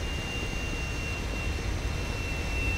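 A plane's engine starts up in the Kane & Lynch 2 video game, a steady loud jet-like roar and rumble held throughout, with no talking.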